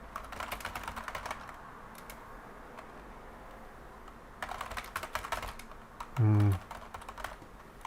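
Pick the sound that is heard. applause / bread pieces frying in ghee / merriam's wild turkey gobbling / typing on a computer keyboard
typing on a computer keyboard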